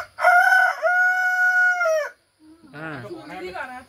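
Local rooster delivering a loud, close cock-a-doodle-doo crow lasting about two seconds, followed after a short pause by a voice calling out.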